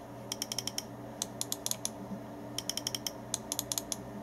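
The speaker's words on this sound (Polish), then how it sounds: "same przyciski są takie średnio ciche w użytkowaniu, za to wciska się je dość lekko" Side buttons of an ART Game Master 2 (AM-86) computer mouse clicked in quick bursts, crisp plastic clicks in clusters of four to six, close up against a quiet hum.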